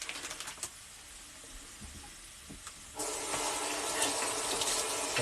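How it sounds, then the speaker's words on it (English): A tablespoon is rinsed under a running kitchen tap while preparing a creamy chicken korma: a quiet rush of water that swells suddenly midway and then flows steadily, with no talking. "Let's just quickly rinse this off."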